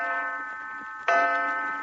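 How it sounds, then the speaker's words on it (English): A clock chimes in an old-time radio drama, a sustained ringing tone that swells with a fresh, louder strike about halfway through and then rings on, alone without voices. "I've counted that thing chime 45 times since we went to bed"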